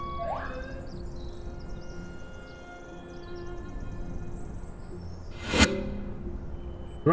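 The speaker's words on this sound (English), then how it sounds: "Here's the ambulance." An ambulance arriving at a road accident in the Swedish countryside, its siren faint and distant at first, with a louder burst near the end over steady outdoor background noise.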